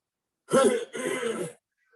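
Two rasping bursts of throat clearing from a man, close and fairly loud, separated by a brief pause, with no talking.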